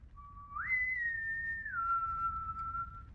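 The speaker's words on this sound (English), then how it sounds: "Can you not whistle?" A person whistles a clear, sustained tune alone, one long steady note that rises, holds, then drops and lingers, with faint room noise beneath and no talking.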